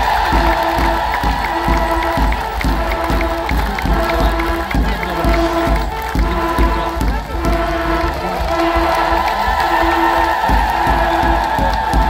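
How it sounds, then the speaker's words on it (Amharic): A congregation in church claps steadily while high, repeated ululating trills ring out over the crowd, loud and continuous, with some voices mixed into the celebratory noise. "ከመቀመጫችሁ ብድግ በሉና በጭብጨባ በልልታ"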